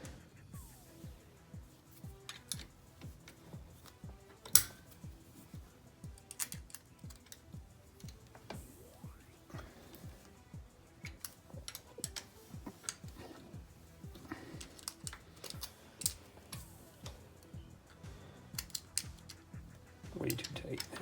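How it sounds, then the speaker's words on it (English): A wrench clicks repeatedly while tightening a valve adjuster on an M151A2 engine, rapid ratchet ticks in irregular bursts close by, with a voice talking over parts of it. "let me wrench this back down because I took it pretty loose"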